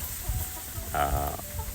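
Young hens cluck once briefly, close by, over faint outdoor background noise on a rural farm.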